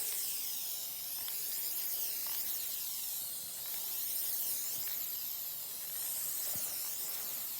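Contact cement sprays onto a car headliner, a continuous, even hiss from the spray nozzle that holds steady from start to finish with no pauses.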